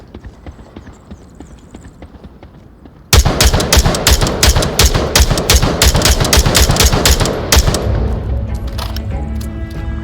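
Rapid bursts of gunfire in the VR shooter Onward, played with a VR gunstock, erupt after a quiet stretch and hammer in close, loud, repeated cracks for several seconds before tapering off.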